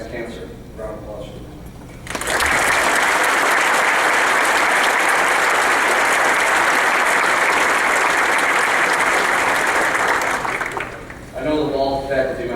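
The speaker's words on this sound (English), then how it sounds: "Round of applause." A room full of guests at an honors banquet breaks into a loud, sustained round of applause lasting about nine seconds, with a speaker's voice heard briefly before and after it.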